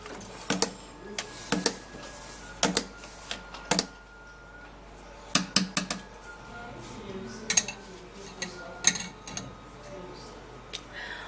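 A spoon stirs a creamy granite juice drink in a cup, making sharp, irregular clinks and taps against the sides in bursts, close and fairly quiet, with no voice over them.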